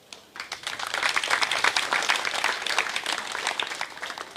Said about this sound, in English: could you please give us a round of applause?